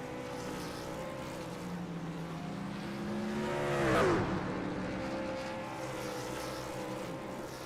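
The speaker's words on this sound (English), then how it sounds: "We got some donuts going on down here by your race winner." Race car at Auto Club doing donuts after a race, its engine heard from a distance rising in pitch, swelling into a loud revving pass, then falling back into a steady drone.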